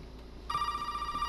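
A telephone rings in the survival horror game Resident Evil 7, one steady electronic tone starting abruptly and continuing over a low room hum.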